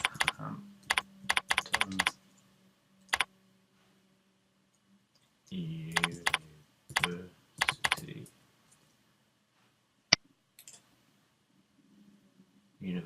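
Bursts of typing on a computer keyboard, rapid clusters of key clicks separated by pauses, close and fairly quiet, with a single sharper click near the end.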